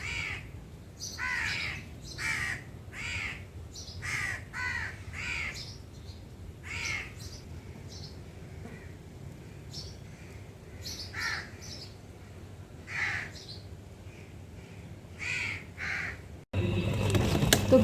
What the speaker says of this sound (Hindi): एक ही तार पर बैठ के ना कौवे वगैरह बहुत ज़्यादा चीख रहे थे